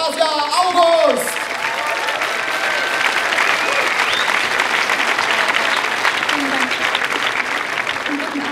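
A science slam audience in Karlsruhe breaks into sustained applause, a dense, loud clapping that continues evenly after a host speaks briefly at the start.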